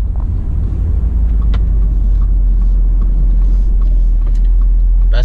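An Audi car accelerates, heard as a loud, steady, deep engine and road rumble that fills the cabin throughout, with no talk.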